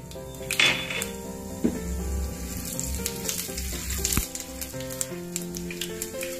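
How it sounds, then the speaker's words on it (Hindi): Mustard seeds and cumin sizzle and fry in hot oil in a home kitchen, a steady close crackle with small pops and occasional stirring, no voices. "अब हम गरम तेल के अंदर राई और जीरा डाल के थोड़ा भूनेंगे।"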